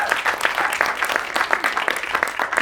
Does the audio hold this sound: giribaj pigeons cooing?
no